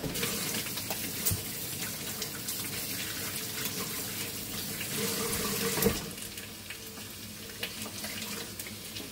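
A kitchen tap runs steadily into a sink, a continuous hiss of water with small clunks and shifts in the flow, fairly close and with no talking.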